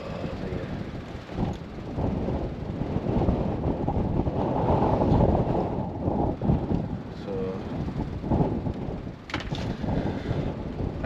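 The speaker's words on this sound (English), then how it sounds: "So this gust of wind keeps coming up now. The wind's picked up." Strong sea wind gusts buffet the microphone on the Seaham Spiles fishing pier, a loud continuous rumbling roar that swells and eases, with some speech faintly mixed in.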